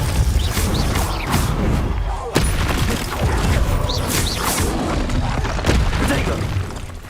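Depulso spell effects in the Hogwarts Legacy video game, a continuous busy wash of magical whooshes, booms and crashing impacts with sharp hits near 2.4 and 5.7 seconds, loud throughout.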